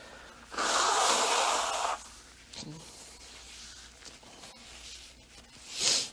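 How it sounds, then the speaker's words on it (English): A long, loud nose blow lasts about a second and a half, followed by quieter sniffs and rustling, then a shorter honk at the end. "Sorry, I gotta blow my nose again."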